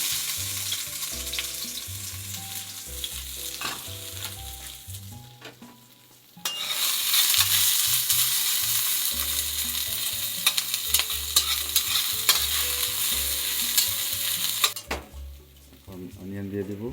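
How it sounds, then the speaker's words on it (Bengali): Ginger and garlic frying in hot oil in a pan for a mixed-vegetable stir fry, a steady loud sizzle with stirring, briefly dropping away midway and near the end, with music playing underneath. "তেলও গরম হয়ে গেছে, এখন আমরা রান্না শুরু করব। ফার্স্টে আমরা জিঞ্জার অ্যান্ড গার্লিক দিয়ে দিচ্ছি।"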